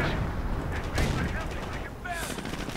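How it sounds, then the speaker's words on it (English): An anti-tank gun fires at a Greyhound armored car in a World War II strategy game, with booming shots and battle noise layered under a voice commenting. "Anti-tank gun trying to get the Greyhound, but looks like it's failing"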